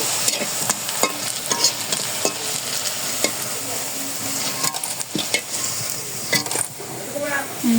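Food frying in a pan with a continuous close sizzle, broken by frequent clicks and scrapes of a spatula stirring against the metal.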